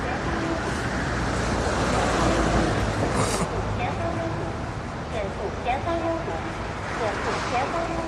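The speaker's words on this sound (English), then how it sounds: "You guys see that? That's a highway." Steady highway traffic rumble with a big truck among the vehicles, continuous road roar and a passing swell, while a person talks over it.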